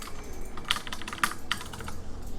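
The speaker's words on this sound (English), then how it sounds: "I'm sorry about pressing so many keys." Rapid bursts of computer keyboard keys pressed during a StarCraft II Legacy of the Void beta stream, a handful of sharp clustered clicks over a low steady background hum, close and fairly quiet with no talk.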